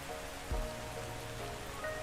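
Rain falling in Ark Survival Ascended, a steady soft hiss of drops on surfaces with a faint low thump partway through, quiet and continuous.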